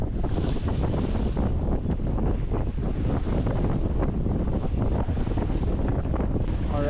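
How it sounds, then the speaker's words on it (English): Strong wind buffets the microphone while sailing a yacht from Honeymoon Bay to Mystery Bay, with a steady loud roar and waves and hull wash churning beneath it throughout, alone without talk. "winds picked up a bit"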